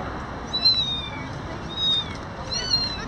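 A kitten at a bird and pet market meows three times, short high cries spaced across the stretch, close and clear over a low, steady crowd murmur.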